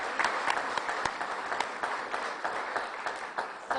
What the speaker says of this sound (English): Let's give you all a round of applause.